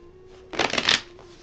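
Tarot cards riffle-shuffled by hand in a short, dense burst of papery flutters lasting about half a second, close and fairly loud, with a faint steady hum underneath.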